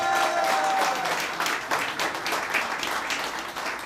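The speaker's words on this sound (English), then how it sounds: "let's give Sharp James a round of applause" Audience applause at a hotel ribbon cutting for the Tryp Hotel, a dense, steady wash of many hands clapping close by, loud throughout and easing slightly toward the end.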